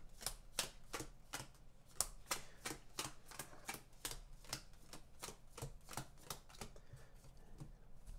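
A deck of cards being shuffled at a tabletop board game session, a quick run of sharp riffling snaps repeating in an irregular rhythm, close and clear with no talking.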